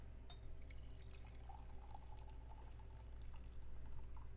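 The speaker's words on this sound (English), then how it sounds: "I'll get myself a cup and I'll pour that out." Brewed peppermint yuzu elderflower tea is poured into a cup in a quiet room, a soft, continuous trickle lasting several seconds at close range.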